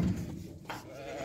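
Sheep in a pen where ewes are lambing and small newborn lambs are present, giving a faint, brief bleat against quiet background rustle.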